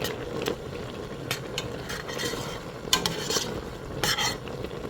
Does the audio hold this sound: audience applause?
no